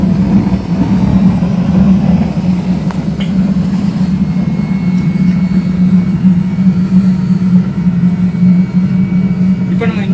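Blower fan on a homemade waste engine oil burner, its speed raised, gives a steady loud low roar that holds unbroken from start to finish, with no voices over it.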